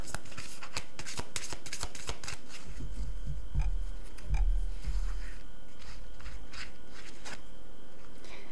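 Oracle cards are shuffled by hand, close and crisp, with repeated riffling and sliding bursts followed by softer rubbing card sounds, and no talk over them.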